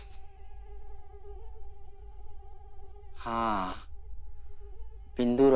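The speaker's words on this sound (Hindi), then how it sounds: "मच्छर।" A mosquito hums with a thin, steady whine close to the ear, and a voice briefly breaks in twice over it.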